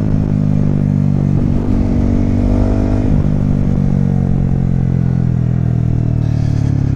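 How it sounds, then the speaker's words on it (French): A motorcycle's exhaust revs loud and close, a throaty engine note rising and falling with clattery mechanical texture, running continuously with no talk over it. "Puis retrouver mon petit pot d'échappement qui chante bien comme il faut."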